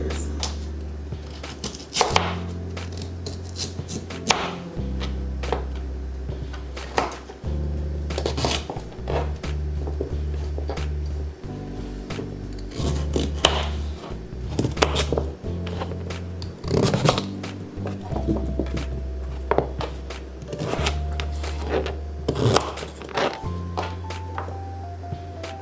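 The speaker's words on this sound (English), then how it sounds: "So now that I have my sweet potatoes peeled, I'm going to go ahead and cut these into squares." A kitchen knife cuts peeled sweet potatoes into squares on a board, with steady repeated chopping knocks and scrapes at close range alongside some low background sound.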